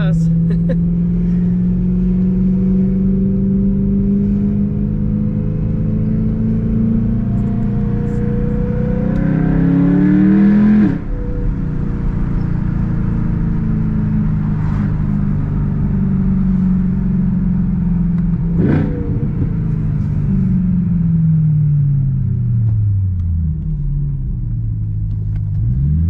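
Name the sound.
BMW E92 M3 engine revving while warming up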